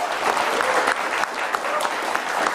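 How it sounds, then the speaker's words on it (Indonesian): An audience at a televised Indonesian vice-presidential debate program applauds the participating university students, a loud, dense burst of many hands clapping close and continuous for a few seconds. "Kita berikan tepuk tangan untuk mahasiswa kita yang sudah berpartisipasi hari ini."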